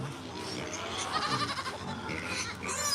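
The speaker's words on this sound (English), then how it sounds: "That's my goat." A pet goat kept near a flock of backyard chickens bleats against a busy, steady background, with no talk in the clip.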